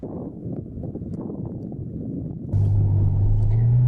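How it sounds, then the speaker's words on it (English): Ferrari F12 Berlinetta, a 2014 grand tourer with a front-mounted V12, heard first as a low muffled rumble, then a louder, steady engine drone that swells in from the midpoint and holds to the end, with no voices. "let's drive it and see what a completely nuts to bolts new Ferrari and new Ferrari front-mounted V12 actually feels like"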